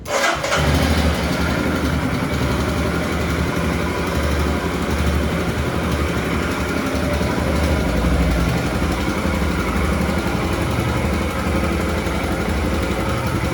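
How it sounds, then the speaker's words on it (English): A Royal Enfield Himalayan 450 motorcycle engine with new valves fires up and settles into a loud, steady idle close by, carrying a slight valve tick throughout. "The engine is beautiful with the new valves from Hitchcock. Sounds like a charm."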